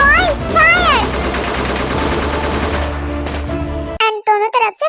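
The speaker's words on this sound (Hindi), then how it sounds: "एंड दोनों तरफ से फायरिंग स्टार्ट हो जाती है." Heavy gunfire erupts from both sides of a shootout in a dense, continuous burst of shots, loud and sustained, with voices heard over the start and a short spoken exchange after it stops.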